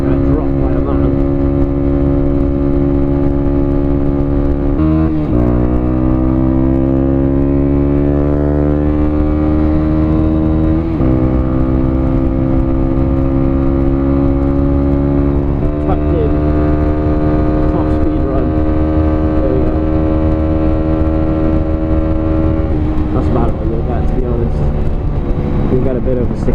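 A Honda XR125 motorcycle under way, its small single-cylinder engine droning loudly and continuously. The pitch climbs repeatedly as it revs through the gears, with brief dips at each shift, under a constant bed of rushing noise.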